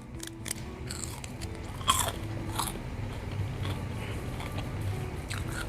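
Crispy pork belly being bitten and chewed close up, giving a sharp crunch followed by a series of quieter crackly chewing sounds over a low background hum.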